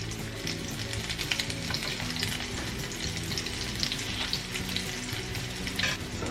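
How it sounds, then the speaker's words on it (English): Leftover mashed potato fritters sizzle steadily in a frying pan, a loud, continuous crackling hiss with scattered pops, no voices over it. "So, just want to put these on the pan. They should go nice and sizzly."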